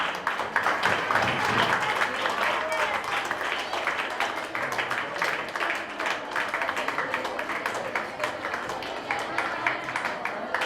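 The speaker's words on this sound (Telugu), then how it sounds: "ఆయనకి గట్టిగా క్లాప్స్" At the closing meeting of an eye-donation campaign, an audience gives sustained applause for the chief guest, a dense, even clatter of many hands that fills the hall for about ten seconds, with faint voices beneath.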